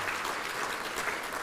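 Audience applause for a minister at the launch of a hairdressing occupational certificate at Ekurhuleni West TVET College, a soft, even patter of many hands heard from a distance.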